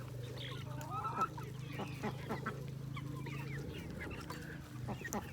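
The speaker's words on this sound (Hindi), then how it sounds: "हमारी मुगड़ियाँ जो है वो काफ़ी हद तक खा पी रही हैं।" Chickens cluck and call continuously while feeding and drinking, with a steady low hum in the background and scattered fowl sounds layered over it.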